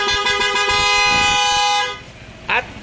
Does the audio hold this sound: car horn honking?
yes